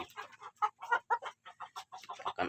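Free-range village chickens being fed alternative feed rather than factory feed, clucking in a run of short, close, moderately loud bursts with brief pauses between them.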